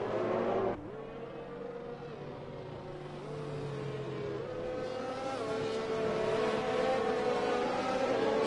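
Formula 1 cars in the F1 2021 video game at Spa, Belgium, engines droning and rising in pitch as they accelerate behind the safety car, a steady high-pitched roar building louder over several seconds.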